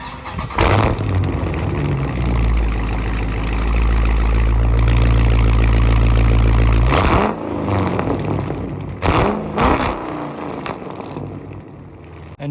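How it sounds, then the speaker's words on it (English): A 2020 Dodge Charger R/T Scat Pack V8 fires up and settles into a deep, loud, rumbling exhaust idle, then gives a few sharp throttle blips near the end, recorded close with no one speaking. "Let's go ahead and take a listen to that exhaust"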